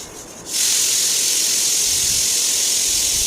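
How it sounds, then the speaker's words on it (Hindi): Samosas fry in hot oil, bursting into a loud, steady hiss and sizzle after a brief quieter moment, the crackling spray holding at full strength to the end. "बार बार हमें इनको उलट पुलट करके फ्राई करना है।"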